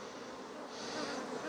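Honey bees buzz in a dense, steady drone at an open backyard hive, the swarming hum close and continuous with a slight swell toward the end.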